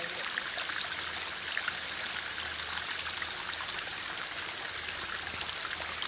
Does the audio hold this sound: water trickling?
yes